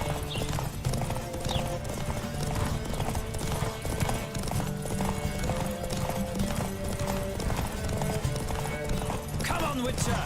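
Galloping hooves from a horse in The Witcher 3: Wild Hunt drum on without pause, close and fairly loud beneath game music and ambient wind, while someone speaks at intervals.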